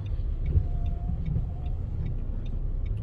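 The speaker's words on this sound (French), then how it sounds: "il y a une voiture qui arrive" A car approaching on a road during a driving lesson, a low steady engine rumble close by, alone with no talk.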